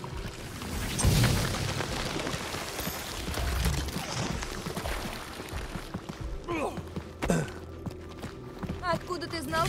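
Heavy booming blasts and crackling bursts from cannons melting a wall in Marvel's Guardians of the Galaxy, repeated through the clip, with sharp impacts and rumbling.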